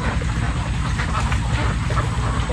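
Ducks quack in a noisy cluster nearby at a duck farm, their calls blending with a low rumbling background and some faint voices.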